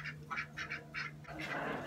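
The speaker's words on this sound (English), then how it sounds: "There's more ducks over here." Several ducks quack in quick, uneven bursts, fairly close, with a low steady hum underneath and a rougher flurry of calls at the end.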